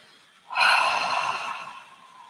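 One long, deep inhale through the nose during a guided chakra meditation session, close and airy, rising sharply and slowly fading over about two seconds.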